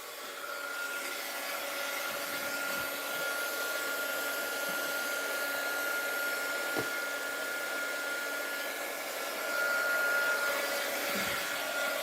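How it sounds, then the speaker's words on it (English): Heat gun blowing hot air over an art journal page, a steady broadband whoosh with a faint whine, close and constant for the whole stretch. "Heat gun alert!"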